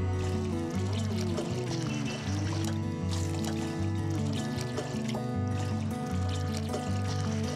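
Water pours into a bowl in a Bakery Simulator video game, a soft trickling stream set under looping, melodic background music that stays steady throughout.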